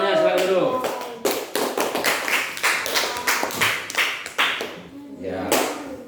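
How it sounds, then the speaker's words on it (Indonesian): A classroom of students claps in several short bursts, close and fairly loud, with brief pauses between them. "Kasih tepuk tangannya, silakan duduk."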